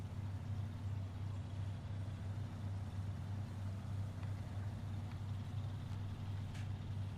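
A truck engine rumbles steadily in the Snow Runners video game, a constant low drone that holds throughout with a few faint higher clicks and no speech.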